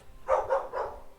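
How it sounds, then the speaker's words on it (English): A dog gives three quick, moderately loud barks in close succession at a short distance. "Apologize for my dog. She didn't like that comment."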